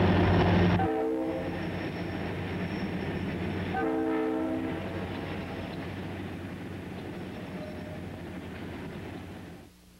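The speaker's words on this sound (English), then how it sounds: "One more northbound gravel train moves through the Little River and Miami Shores area." A freight train's horn blasts twice over the steady rumble and clatter of a long northbound gravel train rolling past nearby in Miami's Little River area, Florida, the noise fading slightly toward the end.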